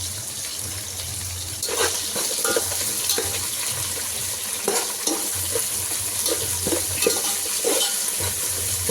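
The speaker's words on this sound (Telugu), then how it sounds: "పచ్చిమిర్చి, ఎండిమిర్చి, కరివేపాకు బాగా ఫ్రై అయ్యాక ఒక 5 minutes వరకు బాగా ఫ్రై చేసుకోవాలి." Curry leaves with green and dried red chillies frying in oil for a Telugu lobia (black-eyed bean) fry, a steady close sizzle with occasional stirring clatter and light watery crackle throughout, no talking.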